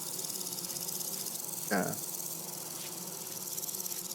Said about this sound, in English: got our little beehive near our door. The bees are happy because there's flowers nearby.